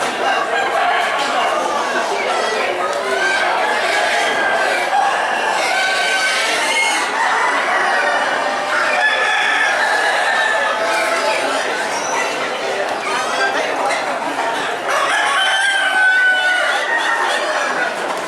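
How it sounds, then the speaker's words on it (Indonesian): Many fighting chickens cluck and roosters crow continuously in a busy, crowded chicken market in Bolu, Toraja, with people chattering underneath. "ayam semua ini"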